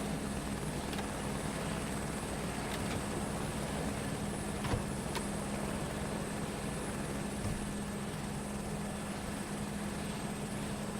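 Helicopter engine and rotor in Microsoft Flight Simulator 2024, a steady close-up roar with a continuous low hum and whine, loud and unchanging, with a few faint clicks and no speech.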